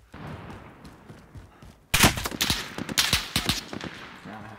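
Rapid bursts of gunfire in Call of Duty: Warzone (Modern Warfare battle royale) erupt loudly after a quiet stretch with faint ambience, then keep cracking in dense, irregular volleys to the end.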